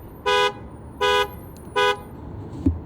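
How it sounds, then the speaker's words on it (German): Three evenly spaced, loud car horn toots, each about a quarter-second, sound in a parking area at a bodybuilding event, followed by a faint thump. "Wir haben unser Auto nicht mehr gefunden und Meth hat die Hupe aktiviert"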